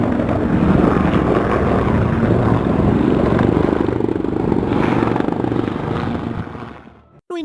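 AH-1Z Viper attack helicopter, the advanced member of the Cobra family, heard as a loud steady rotor and turbine roar that holds for several seconds, then fades and cuts off near the end.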